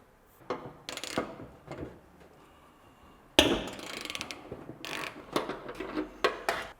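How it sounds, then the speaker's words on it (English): A 10mm socket on a long extension bar works a nut loose inside a car's wheel arch, giving a series of quiet ratcheting clicks and metallic knocks in short irregular bursts, heard close and alone. "come in from the inside of the wheel arch with a long extension bar, a 10mm socket, get onto this nut and undo it there"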